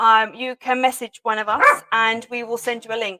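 A dog barks and yips in short bursts behind a woman's speech. The barking sits underneath her steady talking and is only partly clear.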